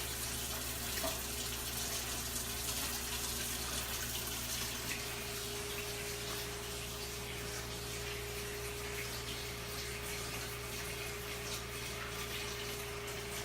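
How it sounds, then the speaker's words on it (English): Cooking oil poured off from a pan, a steady continuous liquid rush with a constant low hum underneath, no talking. "Let's pour. We're pouring off the oil."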